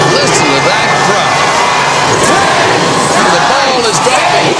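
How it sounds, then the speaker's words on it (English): Dense, loud crowd noise fills New Year's Eve Times Square as the ball drops, a steady roar of cheering and babble with scattered whoops and shouts. "Listen to that crowd."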